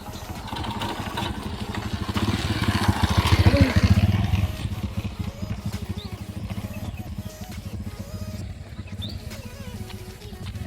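A motorbike rides through water, its engine throbbing steadily at moderate distance and swelling as it nears mid-clip before easing off, with faint splashing and outdoor background.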